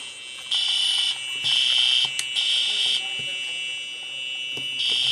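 A fire alarm in a school video game blares in loud, piercing electronic bursts of roughly a second each, separated by short gaps and repeating steadily.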